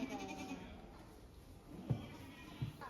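Goats bleating at a countryside farm, mixed in with steady chatter and children's voices nearby; a couple of short bleats stand out faintly from the talk.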